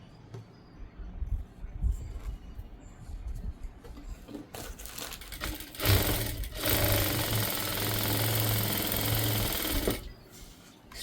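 A sewing machine fitted with a quick threading device stitches in bursts, first brief intermittent whirs, then a steady, fairly loud run of rapid mechanical chatter for several seconds before stopping.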